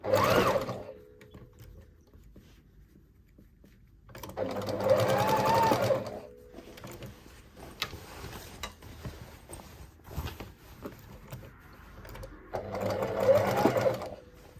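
A sewing machine stitching a denim jacket collar runs in two loud, close bursts of rapid mechanical whirring, separated by quieter stretches of handling noise and faint clicks.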